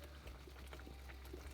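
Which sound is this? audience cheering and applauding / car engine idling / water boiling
water boiling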